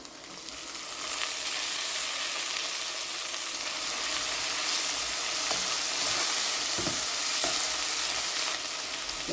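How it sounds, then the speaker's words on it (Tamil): Tomatoes sauté in a pan with a continuous close sizzle that swells after the first second and then stays steady, with occasional faint clicks and no talk. "தக்காளியை நல்லா வதங்க விடுவோம்"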